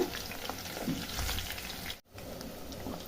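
Chicken pieces fry in oil over a medium flame with a continuous close crackling sizzle and a brief pause near the end.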